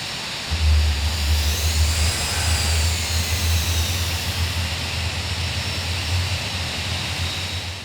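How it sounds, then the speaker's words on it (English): A Douglas DC-8 jet engine spinning up in the FSX flight simulator, a rising turbine whine over a steady low rumble that swells and then settles into a sustained roar, with no talking. "Let's go ahead and start engine 2."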